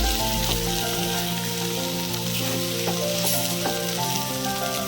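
Spinach and potato frying together in a pan for a home-style Indian palak potato curry, a steady dense sizzle running throughout with faint stirring scrapes and a low background hum.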